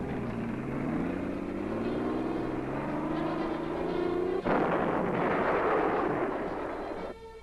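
Artillery weapons fire during troop testing at the Fort Sill, Oklahoma Artillery Board: a rising mechanical drone gives way to an abrupt, loud, sustained roar of blast noise.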